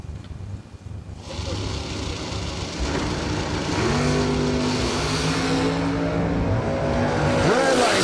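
A 1963 split-window Corvette idles and then revs loudly at a drag strip start line, its engine note rising and holding in strong sustained pulls close by, with the crowd and track noise around it.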